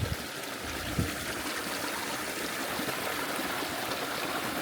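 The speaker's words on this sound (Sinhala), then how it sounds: "මෙතනනොත් පොඩි වතුර පාරක් යනවා." A small stream of water flows steadily along a green hillside road, a soft continuous trickle and gurgle heard alone at low level.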